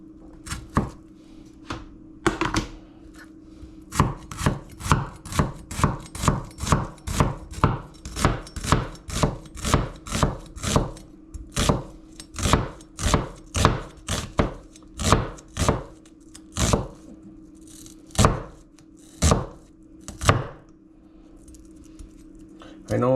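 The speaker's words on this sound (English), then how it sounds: "I know the way I cut stuff is wrong, but that's how I got used to" A knife chops an onion on a board in a fast, even run of sharp close knocks that slows and thins out toward the end, with a low steady hum underneath.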